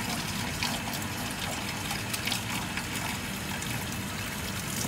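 Water poured out of a container while bathing newly bought fish before quarantine, a steady continuous splashing trickle close by with no talking.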